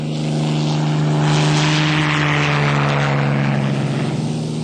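Spitfire propeller fighter plane flying, a steady loud droning engine roar with a strong low hum that holds constant and close throughout, no voices.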